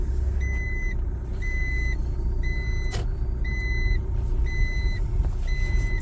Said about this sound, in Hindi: यहाँ से पार्किंग से गाड़ियां निकल रही है लोगों की।